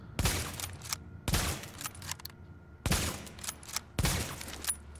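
Rifle fire from an M1A in The Division video game: four loud, sharp shots spaced about a second apart, each with a short ringing tail and faint clatter in between, no voice.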